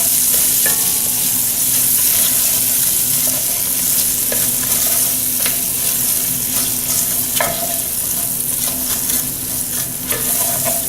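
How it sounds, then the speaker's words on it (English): Onions sizzle steadily in a hot pan with beer close at hand, while a utensil stirs and scrapes them in scattered clicks over a loud, continuous frying hiss. "Some onions, and get in there and get to cooking."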